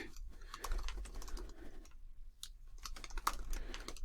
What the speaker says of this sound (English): Type something real quick.